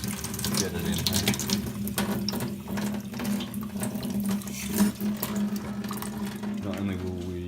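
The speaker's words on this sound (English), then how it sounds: "Not only will we be just drenching it in water from the tap" Water from a laundry tap pours steadily onto a LifeProof USB Lite flash drive, a loud continuous rushing splash close by, with a voice faintly present at moments.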